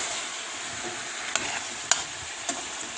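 Celery with leek stirred in a hot pan, a steady close sizzle with a few soft utensil taps and scrapes as the vegetables are turned.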